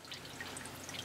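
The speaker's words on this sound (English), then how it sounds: "you see this water draining out of here?" Water trickling and dripping from the drain hole of an Evinrude 15 HP long-shaft outboard motor, a faint, steady dribble with light splashes.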